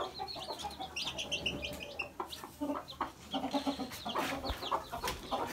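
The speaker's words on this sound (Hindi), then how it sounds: "ये मुर्गी अभी तक तो बच्चों की केयर अच्छी कर रही है" A mother hen caring for her chicks clucks steadily and close by, in a run of low, repeated calls with faint chirps mixed in.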